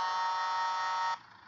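A Volvo FH truck horn in World Truck Driving Simulator gives a loud, flat, sustained blast holding one buzzy tone for about a second before cutting off abruptly, leaving a faint hum.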